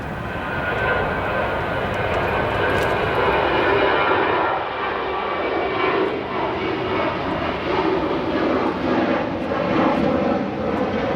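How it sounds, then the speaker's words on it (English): An eight-year-old American Airlines Boeing 737-800, bound for Seattle, rolls down runway 28 right at O'Hare, its jet engines giving a loud, steady roar that holds for the whole stretch with no talk. "rolling down 28 right, we have American Airlines flight 2368, a 737-800 headed to Seattle, Washington"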